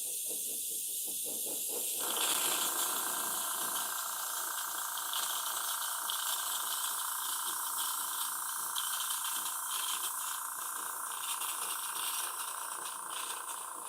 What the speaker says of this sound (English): airbrush gun is not working like I needed to